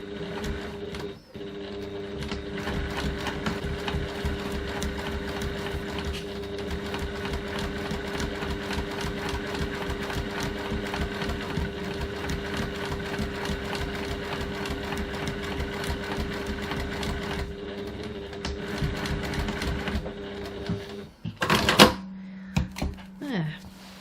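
A sewing machine stitches a bag at a stitch length of 3.1, a steady close mechanical whir with rapid needle clatter that runs for about twenty seconds before stopping, followed by brief handling noises.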